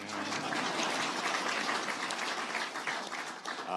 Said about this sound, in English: She gets a clap too.